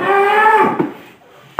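A cow lets out one long, loud moo close by in a rural Indonesian setting, followed by a brief pause and the start of another call at the end.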